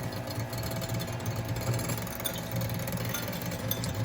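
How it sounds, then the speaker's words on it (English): An electric hand mixer beats eggs in a bowl for a breakfast of cheesy eggs, giving a steady, close motorized whir that runs unbroken throughout with no voices. "Some people use a fork, but I use a mixer because I overdo everything."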